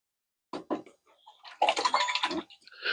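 A copper piece is rinsed in distilled water, making a couple of short splashing, clinking bursts followed by a longer stretch of swishing water and light knocks, close by.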